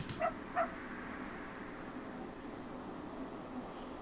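A dog barks twice in quick succession near the start in the Scottside visual novel horror game, short sharp yips followed by quiet background hum.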